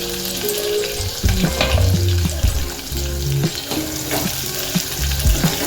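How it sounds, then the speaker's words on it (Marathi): Onion frying in hot oil for a Marathi green moong dal curry, a strong steady sizzle broken by spatula scrapes and clunks against the pan, with no voices. "आता कांदा टाकून घेऊया।"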